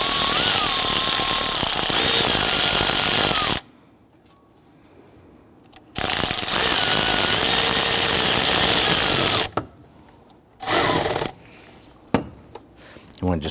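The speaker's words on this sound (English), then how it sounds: "I'm going to use my 10mm socket, and we're going to secure our air intake tube clamp down below." A power ratchet or drill drives a 10mm socket to tighten the air intake tube clamp on a Kia Sorento, whirring loudly in two long bursts separated by quiet pauses, then short clicks and a few brief spins.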